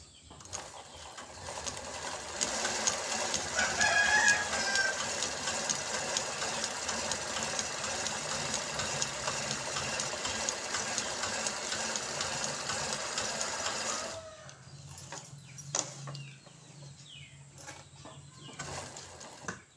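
A new embroidery sewing machine stitches steadily, its dense mechanical whir running loud and continuous for about fourteen seconds before stopping, leaving quieter low hum and faint clicks.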